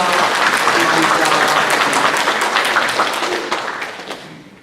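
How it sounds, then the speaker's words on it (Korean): Loud, dense applause from a church congregation fills the room, holding steady before gradually fading away at the end. "박수로 환영하겠습니다"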